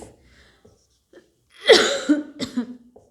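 A single rough, close cough, followed by a couple of smaller throaty coughs trailing off.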